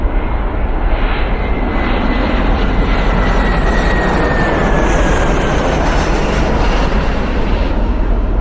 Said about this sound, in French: J'attends que les avions passent là